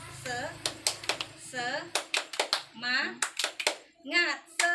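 A group claps in short rhythmic bursts, sharp and close, alternating with children loudly chanting the Indonesian clapping chant "tepuk semangat" between the claps.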